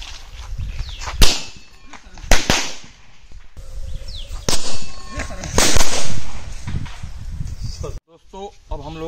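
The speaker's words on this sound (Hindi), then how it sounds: "अब हम लोग इस बैटरी से पटाखों को जलाएंगे और देखेंगे गिलास कितनी ऊंचाई तक जाती है" Firecrackers set off with battery wires send a glass flying: several sharp cracking bangs and whooshes at close range, a loud burst near the end, with voices mixed in.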